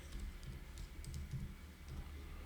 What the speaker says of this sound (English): what we can do is we can type it in